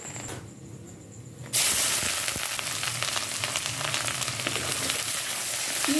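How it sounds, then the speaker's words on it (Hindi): Potatoes dropped into hot oil for an aloo baingan curry, a brief quiet moment, then a sudden loud burst of sizzling that settles into steady, close frying. "अब इसमें हम आलू फ्राई करेंगे।"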